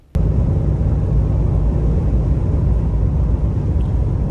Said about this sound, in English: It's got a nice low hum, but it certainly doesn't feel like you're in a big diesel.